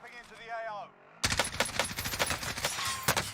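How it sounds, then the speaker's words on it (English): Gunfire in Call of Duty Warzone, a fast, crackling rattle of automatic shots that starts abruptly after a brief voice and continues loud and busy through the rest of the clip. "He's getting shot from behind."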